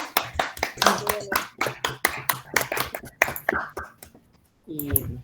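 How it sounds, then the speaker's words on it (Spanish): Scattered hand claps from a small group follow a master's thesis defense presentation, sounding sparse and uneven over about four seconds before a brief pause and a voice returning. "un gran aplauso para Eugenia en su presentación."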